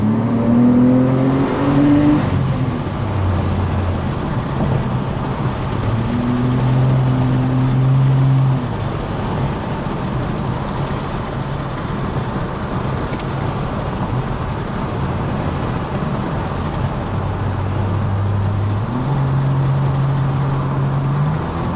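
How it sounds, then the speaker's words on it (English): A Pontiac Grand Prix GXP drives down a backroad with an open window, its steady engine and exhaust drone mixed with loud, constant wind rush, and the engine note shifts a few times as it moves through gears. "see if you can hear the exhaust still while the wind's blowing like 30 miles an hour"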